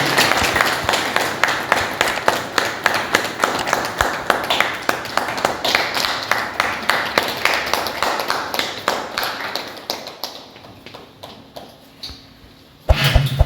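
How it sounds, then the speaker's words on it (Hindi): An audience at a magazine launch ceremony applauds with brisk, even clapping that gradually thins and fades, then a final burst of claps at the very end. "जोरदार ताली से स्वागत करें।"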